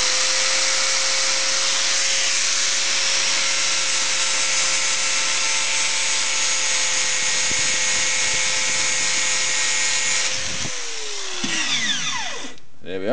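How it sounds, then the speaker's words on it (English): A power grinder strips old paint off a steel shock absorber, running as a loud, steady high-pitched whine for about ten seconds before spinning down with a falling pitch, close to the listener. "We'll go a little bit higher, 3/4 of an inch higher, with our grinder, and we'll clean off the old paint until we get back to good metal."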